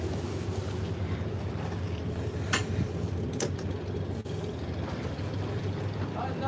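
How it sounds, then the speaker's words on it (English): A sailboat's engine runs at sea in the Caribbean as a steady low drone under wind and water noise, with a couple of brief clicks and faint voices. "Can you go neutral on this engine,"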